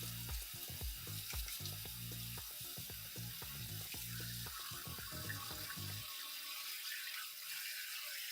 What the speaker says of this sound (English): Give this a rinse out.